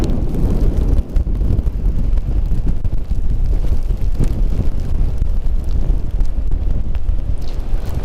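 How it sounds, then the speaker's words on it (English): Blizzard wind at Lake Tahoe roars steadily and loudly across the whole stretch, a dense low rumble of gusts buffeting the microphone with no pause. "Just a little windy."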